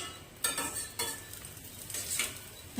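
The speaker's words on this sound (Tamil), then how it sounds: "உப்பு சேர்த்து நல்லா வதக்கி விடுங்க. பாவக்காய் நல்லா வதங்கட்டும்." Bitter gourd (pavakkai) pieces sautéing with salt in a pan, a soft continuous sizzle with a few sharp spoon scrapes and taps as the vegetables are stirred, close and fairly quiet.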